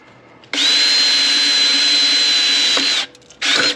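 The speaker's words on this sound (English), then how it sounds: "When you drill these holes, it's going to leave some sharp edges." A power drill bores holes in metal for a homemade hobo stove, a loud high whine held for about two and a half seconds, stopping, then a second brief burst.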